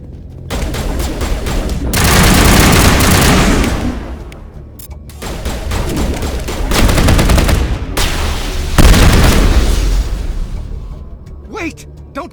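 Loud bursts of rapid gunfire and shooting ring out in Mass Effect Legendary Edition, with sustained volleys, brief pauses and heavy impacts, and voices talk alongside the battle.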